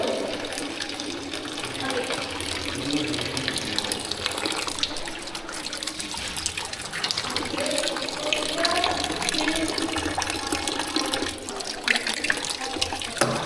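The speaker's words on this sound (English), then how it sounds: "The water was normally falling." Water pours steadily downward in an airflow demonstration, drawing a ball into the falling stream, a continuous rushing splash heard alone at close range throughout.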